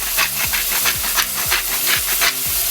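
Chopped onion with salt sizzling in a hot pan for a gluten-free chicken and leek lasagna, a steady close hiss broken by rhythmic scraping strokes of a utensil about twice a second.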